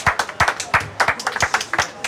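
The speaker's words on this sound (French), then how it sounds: "vous applaudissez, s'il vous plaît, Monsieur Benjamin Delsol" A French television studio audience claps, the individual claps loud and close, spaced fairly evenly across a short burst.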